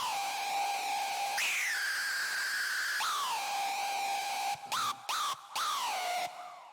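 The noise Screech preset from the Doomsday Serum bank gives a piercing, screaming synth tone with hissy noise underneath, sliding between held pitches, then breaking into short stuttered chops before fading out.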